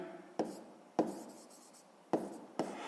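Pen writing on paper during a grade 6 maths exercise, quiet close scratching set off by four crisp taps as the tip strikes the page, with no talk.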